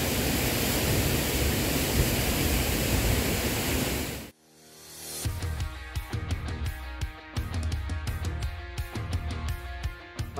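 Cascata de Candidã in Sumidouro, the tallest waterfall in Rio de Janeiro state, gives a dense, loud, steady roar for about four seconds before cutting abruptly to music.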